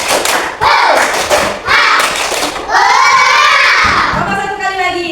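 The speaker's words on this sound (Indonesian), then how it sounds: "Coba tepuk semangat." Schoolchildren perform the tepuk semangat rhythmic clap, sharp grouped claps in a patterned sequence, then break into loud chanting voices together.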